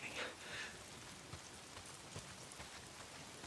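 Steady rain patters softly on a surface in the game Days Gone, with scattered louder drops, faint and continuous throughout.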